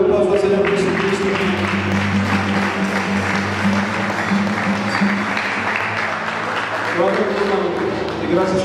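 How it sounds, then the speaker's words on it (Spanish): Loud congregational applause in a church service, sustained clapping over a droning musical or organ tone, with voices calling out in the background. "Démosle un fuerte aplauso al Señor Jesucristo."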